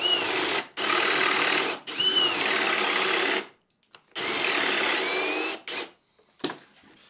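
A power drill boring a big hole through a kitchen cabinet door held in a clamped jig, several loud sustained bursts of cutting with short pauses between, close and alone.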